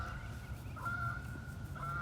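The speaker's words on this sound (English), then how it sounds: "look at those 2 geese flying in the sky" Two geese honk while flying overhead outdoors, a few faint, distant calls over steady low background noise.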